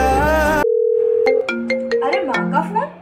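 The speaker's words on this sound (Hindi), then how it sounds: "अरे माँ का फोन" A mobile phone ringtone chimes in a short melodic pattern of bright repeated notes, loud and close, following a sung music passage that cuts off abruptly.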